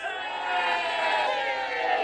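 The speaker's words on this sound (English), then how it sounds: "Fellow citizens, you're cheering me. You're cheering me." Crowd of citizens cheering, a dense, sustained roar of many voices shouting together for a couple of seconds, loud and even throughout.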